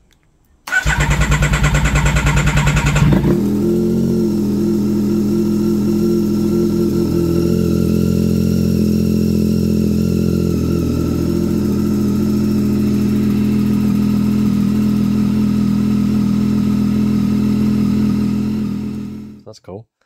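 A 2024 Yamaha MT-09 SP motorcycle cranks and fires up loudly, then settles into a steady, close idle that runs for many seconds before cutting off.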